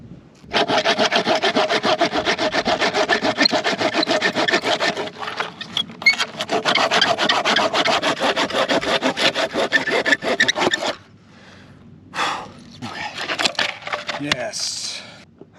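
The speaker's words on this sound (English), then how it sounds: "it's time to retire that saw blade. But hey, we got 2 pieces of firewood" A worn saw blade cuts firewood outdoors in the desert with loud, rapid back-and-forth rasping strokes for about ten seconds. After a pause, a few shorter bursts of sawing follow.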